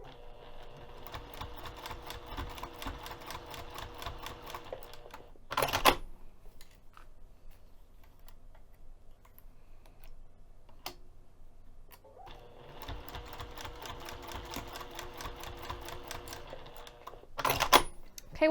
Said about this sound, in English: I'm going to take this over to the sewing machine and I'm going to sew on the fabric 1/8 of an inch away from the edge of the fabric